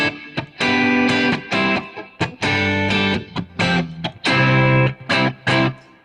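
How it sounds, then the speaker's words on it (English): An electric guitar is played through a plate reverb with the echo switched off. Loud, sustained overdriven notes and chords come in short phrases, each broken by a brief gap where the reverb tail rings out. "So here's just the reverb."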